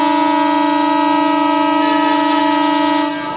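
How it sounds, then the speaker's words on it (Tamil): A DEMU passenger train leaving Salem for Cuddalore Port sounds a long, loud, steady horn blast close by, its harmonic tone held for about three seconds before cutting off. "ஃபைனலாக நம்ம சேலத்துலேருந்து கடலூர் போர்ட்டுக்கு ட்ரெயின் கிளம்பிடுச்சுங்க."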